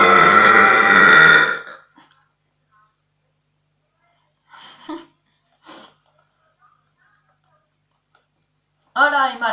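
A loud, drawn-out burp from a person, almost two seconds long, followed by quiet gaps and a few brief vocal sounds and breaths.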